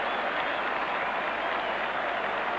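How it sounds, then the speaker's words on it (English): Cricket crowd at a 1975 World Cup semi-final between Australia and England, applauding and cheering in a steady, broad roar of clapping from a large stadium audience across the whole stretch. "And the crowd, the jubilant crowd, think they might be in here for a thrilling finish."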